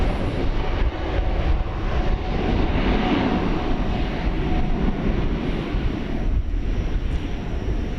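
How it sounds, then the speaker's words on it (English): Boeing 787-9 Dreamliner jet at DFW airport at night, a steady broad roar of engines heard from a distance, sustained and fairly loud throughout with no talk. "That's the sound of a Dreamliner Dash 9."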